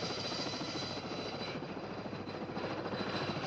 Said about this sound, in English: We transfer to a helicopter for another hour and a half.